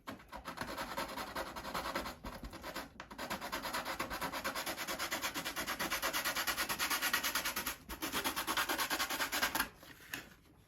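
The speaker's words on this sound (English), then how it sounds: "Anywhere there's a tape edge, you want to give the 80 grit sandpaper just on the tape, not on the actual wood." Hand sanding with 80 grit sandpaper along tape edges on fiberglass over wood on a Top Flite .60 size P-40E Warhawk model, steady rapid back-and-forth rasping strokes, loud and close, with a few brief pauses.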